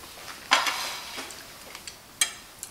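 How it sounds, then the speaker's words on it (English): Jack fish sautés in a pan, a faint sizzle under a few sharp clinks and scrapes of a utensil against the metal, close and brief, with no talking. "I'm going to the saute now."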